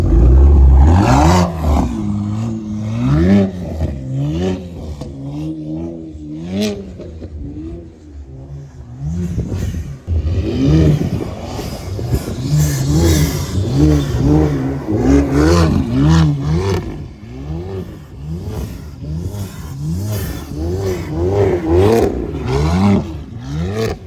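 A BMW M2 on a snowy day revs hard and repeatedly, its engine rising and falling in loud, close bursts with brief dips between pulls, and no talking over it.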